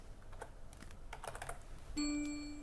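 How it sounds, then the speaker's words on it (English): Typing on a computer keyboard makes a run of quick, soft clicks at close range, then gives way to a sustained electronic tone near the end. "you click on the word, yeah, and without hair, you start typing the word"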